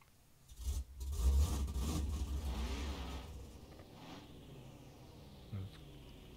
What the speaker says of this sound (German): Dann muss ich das Auto mal vorfahren.